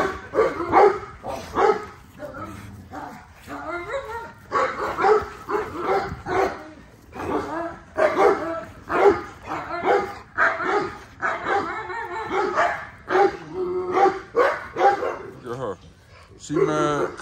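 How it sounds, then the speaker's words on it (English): Several kennel dogs bark in repeated sharp bursts, loud and close, with whimpers and yips mixed in, while a person talks and calls to them throughout. "Cause I'm out with Zeus, so she wanna bark at Navy"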